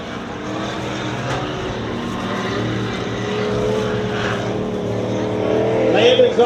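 Race cars roar around a dirt track at Dirtona Raceway, engines droning steadily and swelling louder toward the end, with a commentator talking over the noise.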